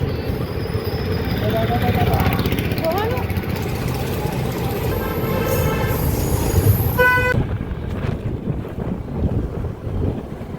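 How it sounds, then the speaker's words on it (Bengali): A train passes behind at a roadside spot as people get into a car, with a few tonal horn toots in the middle over steady rumble and wind buffeting, and voices talking throughout. "এই পেছন দিয়ে ট্রেন চলে যাচ্ছে,"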